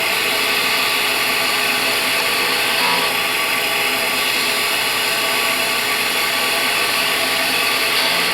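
A skew chisel takes a slicing cut on a spinning wood lathe, giving a steady close broadband shaving hiss that stays even and continuous with no voices.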